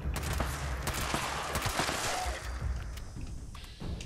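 Explosive handmade rifle firing in Fallout 76, a rapid run of loud booming shots with blast echoes through an industrial interior, dense and continuous with no pauses.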